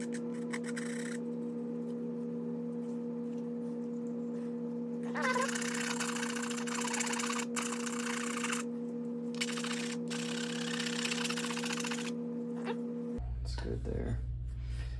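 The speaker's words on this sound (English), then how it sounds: "So using the file to come in here and round out some of these" A hand file rasps along the edge of a guitar pickguard, rounding it for a vintage acoustic guitar; scraping strokes come in close, repeated bursts over a steady background hum.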